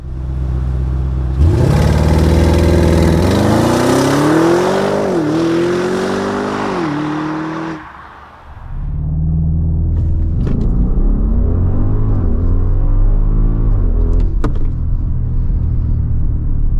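A 2023 Audi RSQ8 with 600 hp accelerates at full throttle, its engine climbing through rising revs with distinct gear-change dips, a brief lull, then pulling hard again, loud and close.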